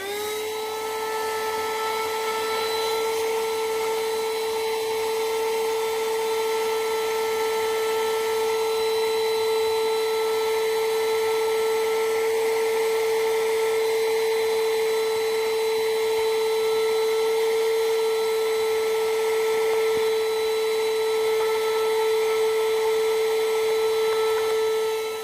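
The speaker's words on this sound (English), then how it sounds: "I've got my mini Hoover vacuum." A small handheld Hoover vacuum sucks dust out of a faulty solar power pulse charger, giving a loud, steady high-pitched motor whine that runs unbroken for the whole stretch with no talking.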